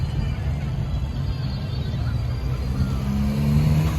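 A new-model blue Camaro SS 1LE at the St. Ignace car show rumbles low and steady outdoors, with a rising rev near the end over the surrounding show noise.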